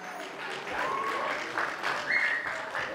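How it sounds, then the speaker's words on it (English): Wedding reception guests applaud the bridal party in a banquet hall, a soft, continuous spread of clapping heard at a distance, with a few faint whistles or cheers rising briefly above it. "Let's give a very big round of applause to our bridal party."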